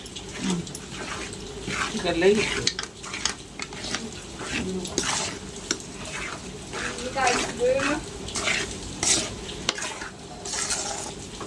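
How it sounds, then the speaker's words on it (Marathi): Besan flour being stirred continuously in a pan over a low gas flame for ladoos, with steady scraping and soft sizzling under an occasional voice. "आणि एकसारखं हलवत राहायला लागते याला कारण पीठ करपण्याची शक्यता"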